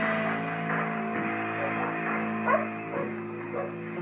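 A frightened two- or three-year-old mixed-breed female dog named Sophia whimpers and lets out short, thin yips in a few soft bursts over a steady background hum, close by and fairly quiet.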